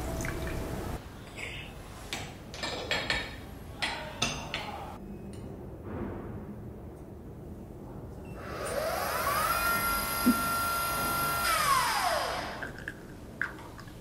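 A KUKU Maker coffee machine at work: scattered taps and drips, then a steady rising and falling mechanical whir lasting a few seconds before quiet clicks return.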